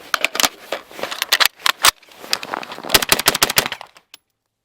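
Rapid rifle fire with cold Federal ammunition, a dense burst of sharp, loud reports followed by a second fast string of shots, each crack close and percussive before abrupt silence.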